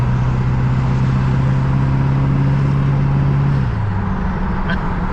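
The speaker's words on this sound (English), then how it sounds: "It just sounds so fucking sweet when that turbo is spooling." A Duramax diesel truck engine fitted with a cheap cold air intake drones loudly and steadily up close, its low hum holding and then dropping in pitch near the end as the turbo spools, with no speech.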